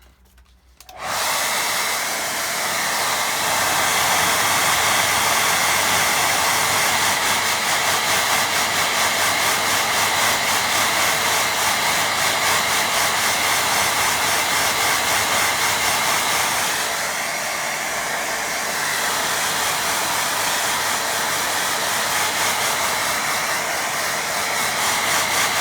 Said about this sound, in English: Give that a quick blast with a dryer.